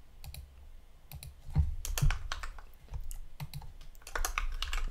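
Fast, close typing on a computer keyboard, a dense patter of key clicks with short pauses and no talk.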